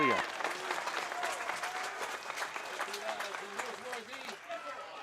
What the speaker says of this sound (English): You can hear the crowd are on their feet.